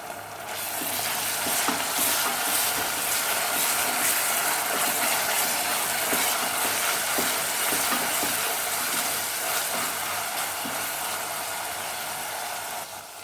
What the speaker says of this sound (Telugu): అల్లం వెల్లుల్లి వేగిన తర్వాత టమాటా ముక్కలు వేసుకున్నాను